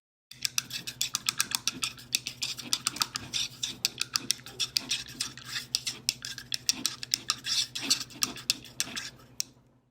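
A paintbrush rinsed in a cup of water, tapping and clinking rapidly against the cup's sides in a dense, irregular rattle of small sharp clicks, close and steady for several seconds without talk.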